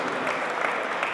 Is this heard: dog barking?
no